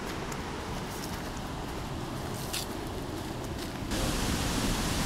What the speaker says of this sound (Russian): А река.